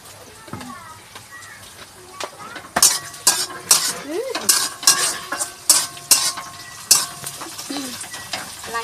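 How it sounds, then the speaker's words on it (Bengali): Onion and capsicum are stirred in a kadai with a metal spatula that scrapes and clinks in uneven strokes over a soft sizzle, while people talk nearby. "কড়াইয়ে পেঁয়াজ নাড়লো, এবার ক্যাপসিকামটাও একটু দিয়ে দিয়েছে"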